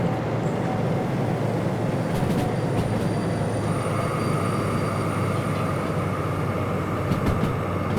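A BR Class 03 diesel shunting locomotive (DM3) rolls downhill in the Derail Valley train simulator, giving a steady, loud rail rumble with a continuous low drone, some brake squeal and a higher tone joining partway through.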